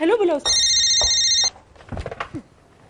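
A phone rings in a steady electronic trill for about a second, right after a short voice, then people talk quietly.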